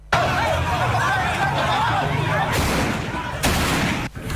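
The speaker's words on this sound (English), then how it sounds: "you hear the gunshots there" Gunfire during an attack on the IGP's Anti-Galamsey Taskforce at an illegal mining site: sharp bursts over loud crowd shouting and commotion, with a few sudden loud blasts standing out.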